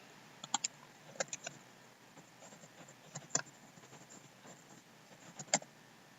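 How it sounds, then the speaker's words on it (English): Someone types a command on a computer keyboard, a sparse run of close, light key clicks with a few sharper taps and short pauses between them. "we're gonna type in sudo service sshd restart"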